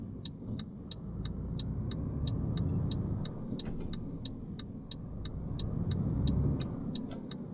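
A heavy truck with a 16-speed gearbox in Euro Truck Simulator 2 drones steadily with a low engine rumble that swells and eases, while a rapid regular ticking, like an indicator, runs over it.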